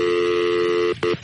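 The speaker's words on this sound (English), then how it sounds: "All right, I can't dial out again." Telephone dialing tones on a landline: a steady held tone broken by two or three short separate beeps near the end, loud and close with no talk over them.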